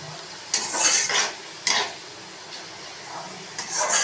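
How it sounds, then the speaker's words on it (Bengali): Potatoes fry in a pan on a home stove, with a few bursts of stirring and utensil scraping over a soft, steady sizzle, fairly close and with no talk. "এই যে আমার আলু ভাজা হচ্ছে।"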